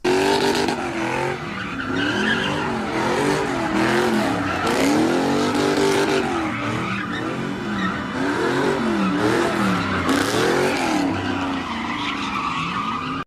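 Cars doing stunts on a blocked-off bridge in California, with loud, repeated tire squeals and skids over roaring, revving engines that swell and fade in waves, close and continuous.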